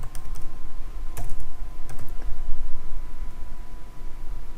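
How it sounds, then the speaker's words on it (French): Keys tapped on a computer keyboard as text is typed into a digital atlas, with a few sharper clicks standing out from a soft, steady patter, close and alone. "Je tape le texte"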